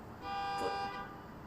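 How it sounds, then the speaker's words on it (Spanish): A car horn sounds once from outside, a single steady honk lasting under a second that rises out of quiet background hiss. "no sé si se están escuchando los pitidos de los coches"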